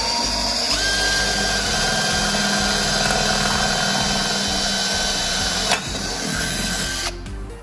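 A power drill whirs steadily up close for several seconds, drilling a small hole in the body of a Ferrari 458, then stops with a brief click and a fading mechanical hum.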